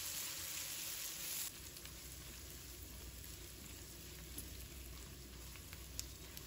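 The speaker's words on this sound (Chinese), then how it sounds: "继续小火给它炒香。" Sliced garlic, dried chili and Sichuan peppercorns stir-frying in oil in a wok over low heat, making a continuous close sizzle that is a little louder at first, then settles, with occasional faint crackles.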